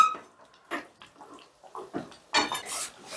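A lid goes onto a cooking pan of sim makhani, a flat-bean curry, over a low gas flame. Soft clinks and taps are followed by a louder metallic clatter near the end.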